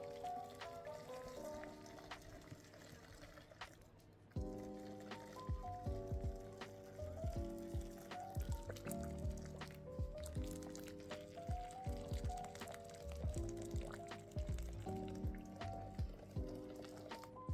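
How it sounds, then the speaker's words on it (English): Boiling water is poured into the base of a yogurt maker, a quiet running trickle that thickens into a fuller filling gurgle partway through, close by with some faint clatter and no talk. "We're going to get hot water, boiling water, and we're going to fill the bottom up."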